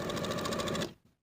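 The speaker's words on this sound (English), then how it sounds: "we're going to sew basting stitches around the top of the sleeve from outer notch to outer notch" A home sewing machine running basting stitches at its longest stitch length along the top of a fabric sleeve, a steady rapid mechanical whir that stops abruptly after less than a second.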